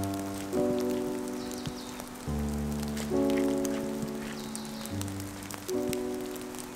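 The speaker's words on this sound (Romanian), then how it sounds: "conform prognozei meteo și contrar speranțelor mele, ploaia nu s-a lăsat" Rain falling steadily through a New Zealand forest, a dense patter of drops on leaves and surfaces, with a low droning hum that shifts pitch in steps underneath, continuous and moderately loud, no talking.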